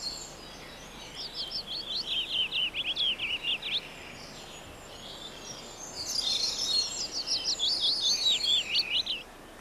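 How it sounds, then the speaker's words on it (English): Willow warbler singing among scattered trees in a country garden, two bright descending phrases of quick sweet notes a few seconds apart, clear and fairly close over a quiet background. "And this is the willow warbler, another visitor to country gardens or any open area with scattered trees."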